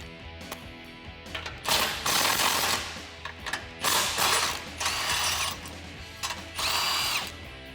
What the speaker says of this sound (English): I'm going to be using a 21mm socket to remove the two bolts on the side of the frame